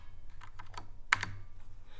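A few keystrokes tapped on a computer keyboard while entering a cryptocurrency name on a trading site, light and close, with one sharper click standing out over a quiet room hum.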